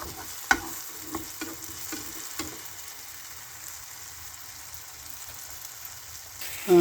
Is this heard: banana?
yes